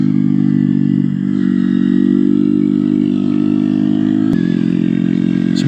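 Honda Grom motorcycle with a loud Zoom aftermarket exhaust riding along a road, a steady, loud, buzzing engine drone with a slight dip in revs, close to the rider.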